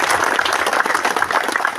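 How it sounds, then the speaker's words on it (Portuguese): Crowd applause for the municipal band at a street inauguration event in Crissiumal, Rio Grande do Sul, steady close clapping filling the short stretch. "Uma salva de palmas aí para o pessoal da banda municipal."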